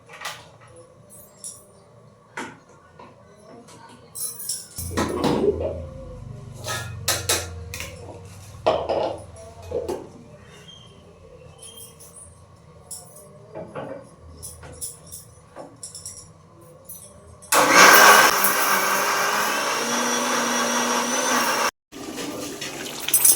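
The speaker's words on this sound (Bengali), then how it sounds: "এখন আমি মশলাটা বেটে নেবো" Masala spice paste is ground after scattered clatter of pots, utensils and running water. A loud, steady grinding whir then starts up close, runs for several seconds, cuts out briefly, and resumes.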